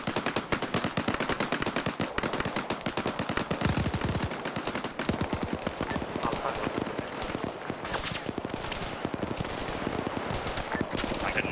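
Dense, continuous gunfire in a military video game, rapid machine-gun bursts and rifle shots crowding together loud and close with little pause, a faint voice occasionally underneath.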